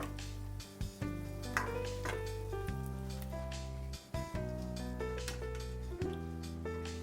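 Chana dal fries in hot oil with coriander while a spoon stirs and breaks up lumps, a steady crackling sizzle broken by a few short scraping knocks in the pan.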